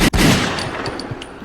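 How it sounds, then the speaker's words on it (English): A gunshot sound effect: a loud, sharp blast that opens the moment, followed by a brief tail of rattling reports and fading echo, with no talking. "Here's to the gunshot."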